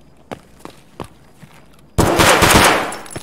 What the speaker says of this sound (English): I shot his helmet.